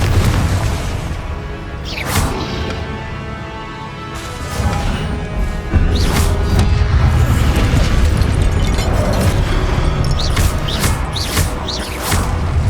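Confringo blasting spell explosions in the Hogwarts Legacy video game, several loud booming bursts spread across the stretch amid continuous battle noise and a low rumble.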